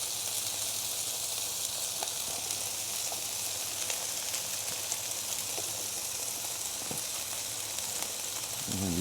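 Lamb smash burgers topped with onions sizzle on a griddle, a continuous even hiss of frying heard close up with no talk.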